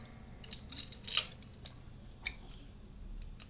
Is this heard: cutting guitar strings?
yes